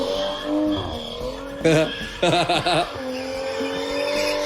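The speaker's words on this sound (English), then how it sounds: "this was the first time I actually ever spun this car." A car spinning out with squealing tires, heard as rising, wavering screeches over engine noise with talk throughout.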